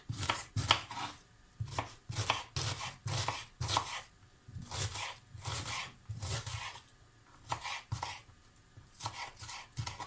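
Rapid knife strokes slice through onion on a cutting board, steady bursts of close chopping with brief pauses, the first onion being cut for frying in borscht preparation.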